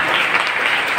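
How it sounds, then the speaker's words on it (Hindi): Audience clapping at a gratitude ceremony, a dense, steady burst of applause filling the room, loud and close, with no speech over it. "अपनी तालियों में जरा भी गुंजाइश ना रखिएगा।"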